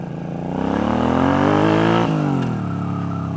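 A bobber motorcycle engine pulls hard in first gear, revving up in a rising snarl, then dropping off sharply as the throttle is released, loud and close.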